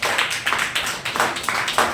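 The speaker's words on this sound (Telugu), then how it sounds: "గట్టిగా చప్పట్లు కొడుతుంది." A church congregation claps hands loudly in quick, steady rhythmic bursts, a dense and fairly close clapping sound without talk.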